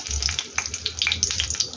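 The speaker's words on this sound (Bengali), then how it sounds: "শুকনো লঙ্কা ফোড়ন দিলাম" Hot oil sizzles and crackles steadily as dry red chilies fry in it, with rapid small pops over a continuous frying hiss.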